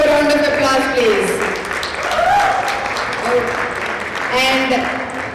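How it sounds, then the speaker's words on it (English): Crowd applause for a singer at a university alumni anniversary celebration in New Jersey, steady clapping heard under voices talking over it throughout. "Give him a big round of applause, please."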